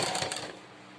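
A sewing machine stitches piping onto a sleeve in a quick, close, rattling burst that runs for half a second and then stops.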